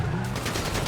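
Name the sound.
gunfire in a video game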